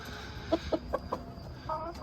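Ornamental naked-neck hens cluck in a pen, four short soft clucks in a quick row and then a longer throaty call, fairly faint over low background noise.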